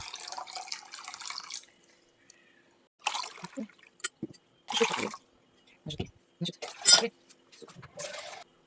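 Water is poured from a tap into a measuring jug for a tomato marinade in several separate short splashing bursts, broken by quiet pauses, close and fairly soft.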